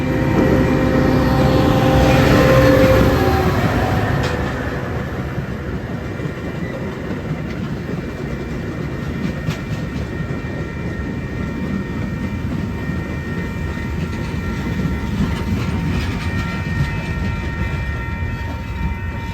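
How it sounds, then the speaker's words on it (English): Outbound Metra commuter train 645 headed to Crystal Lake passes close by, its loud rumble peaking in the first few seconds and then settling into a steady roll of wheels and cars that runs to the end. "Our next train would be another outbound train, this one being Metro 645, OTC to Crystal Lake."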